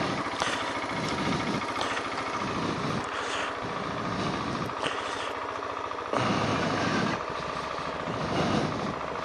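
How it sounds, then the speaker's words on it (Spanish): Off-road adventure motorcycle idling while it warms up on a mountain morning, a steady close-up throbbing rumble with slight pulsing surges in level and no talk. "La moto ya hemos dejado arrancada antes,"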